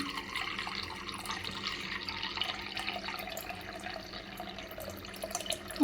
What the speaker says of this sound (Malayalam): പയർ വേവാൻ ആവശ്യത്തിനുള്ള വെള്ളം ഒഴിച്ചു കൊടുക്കാം